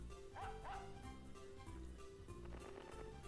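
A small pocket dog yips twice in quick succession, fairly faint, followed by softer whimpering noises over a busy, low-level background.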